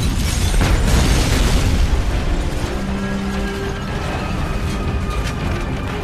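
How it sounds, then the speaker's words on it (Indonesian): A house blows up after its gas vent is sabotaged in the 2007 film Shooter, a loud rumbling blast that carries on as a dense roar of debris and low rumble, then settles into steady noise with a faint tone. "merusak ventilasi gas yang mengakibatkan rumah tersebut meledak dalam"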